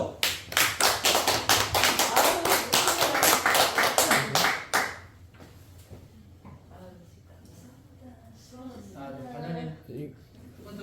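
A small group at a seminary lecture claps in a brisk rhythmic burst of distinct, close claps for about five seconds, then stops as people begin chatting nearby.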